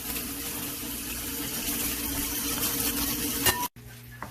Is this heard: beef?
yes